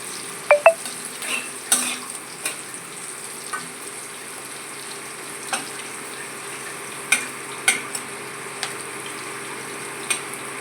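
Diced potatoes, pointed gourd with skin on and green chili fry in a pan, a soft constant sizzle broken by a few sharp spatula scrapes and clinks, no talking.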